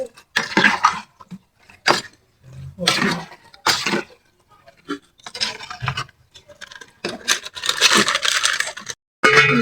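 Spaghetti and beans stirred in a cooking pot, giving bursts of scraping, clattering utensil-on-metal noise separated by brief pauses.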